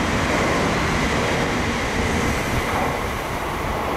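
A Shinkansen high-speed train on the Tokaido line rushes slowly through Atami station in a steady, loud roar of wind and rail noise, with no voices.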